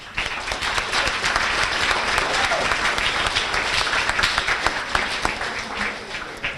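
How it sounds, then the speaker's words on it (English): Audience applause fills the room at a high school sports banquet in Ste. Genevieve, Missouri, a dense, steady round of clapping from a crowd that holds strong for several seconds and tapers slightly at the end. "I really feel he deserves a special round of applause."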